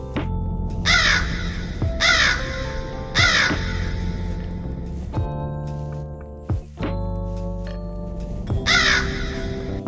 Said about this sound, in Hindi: कोए को इंग्लिश में क्रो कहते हैं।